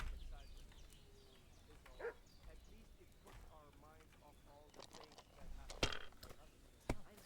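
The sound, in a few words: dog barking in Kingdom Come: Deliverance 2 video game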